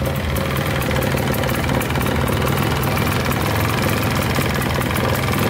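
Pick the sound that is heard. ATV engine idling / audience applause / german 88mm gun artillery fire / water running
ATV engine idling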